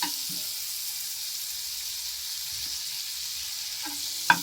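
Butter melting in a pan before onions and tomatoes go in for tofu tikka masala, a soft continuous sizzle heard up close with a couple of faint clinks and one sharp tap near the end.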